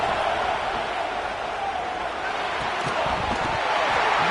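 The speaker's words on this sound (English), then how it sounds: "Listen to this crowd just shaking the girders of this place" A huge stadium crowd roars continuously, a dense, sustained wall of noise with some faint thumps and voices buried in it.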